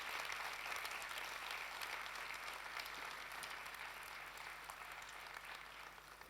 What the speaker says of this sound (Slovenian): Še en velik aplavz, lepo prosim, za pevski zbor Društva paraplegikov.